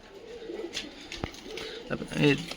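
Native pigeons in a backyard loft with chicks and eggs coo softly and faintly, with a short burst of cooing near the end over quiet background noise.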